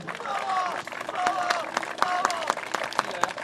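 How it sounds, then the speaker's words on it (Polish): Spectators at a one-handed sword combat tournament applauding the bout winner; scattered clapping with distinct sharp claps over a murmuring crowd, while a faint whistling tone drifts underneath. "Jeszcze raz brawa dla niego."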